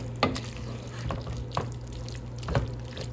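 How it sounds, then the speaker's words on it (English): A spoon stirs half a cup of milk into a greens gratin mixture, giving soft, sporadic wet scrapes and clinks over a quiet, steady kitchen hum. "I'm going to stir in the milk"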